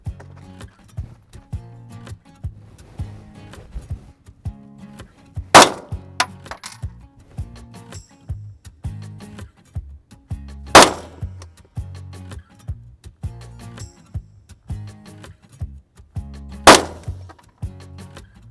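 Three sharp gunshots from a Sig Sauer P320 pistol with a Romeo1 red dot sight ring out at a range, spaced roughly five seconds apart, each one a loud crack above quieter clattering and handling noise.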